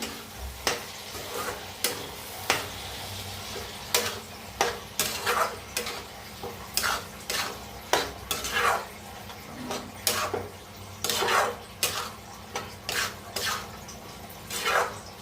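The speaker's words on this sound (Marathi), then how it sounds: "आता डाळीला मिक्स करून घेऊया." Dal (lentils) with salt being stirred in a pot, a spoon scraping and clinking against the sides in repeated strokes, with a faint sizzle underneath.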